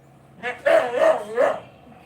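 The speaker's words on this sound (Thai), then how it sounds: "แกเห่าอย่างเงี้ยเกรงใจคนอื่นก็น่าดูนะ" A dog barks three times in quick succession, close and fairly loud, with sharp harmonic yelps and no voices.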